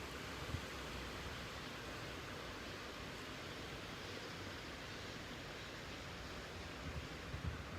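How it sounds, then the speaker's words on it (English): A river flows near Mount Shasta, heard as a steady, soft broadband rush that holds unchanged from start to finish with no voices over it. "There's the river. Can you hear it?"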